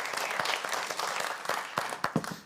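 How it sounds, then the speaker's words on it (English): A studio audience at a country diner music show applauds, a dense, continuous crackle of many hands clapping with a few louder claps near the end. "A round of applause would be nice."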